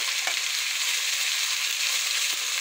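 Flat beans and peas fry in oil in a home kitchen, a steady, broad sizzle holding constant throughout with a couple of faint stir clicks, no voices.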